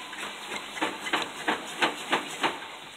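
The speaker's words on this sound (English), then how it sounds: "Potatoes are cooking wonderfully." Potatoes cook in a pan with a steady close sizzling hiss, pulsing in regular bursts about every third of a second.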